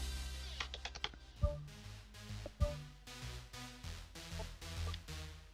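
One-handed typing on a computer keyboard during a PES 2017 football game session, an irregular run of close key clicks and taps with a couple of sharper strikes, set against steady game background music, no talking.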